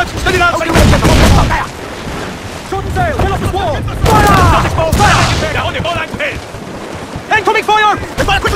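Naval cannon fire in the video game Assassin's Creed 4: loud booming broadside blasts with rumbling battle noise, crew shouting over it and music underneath.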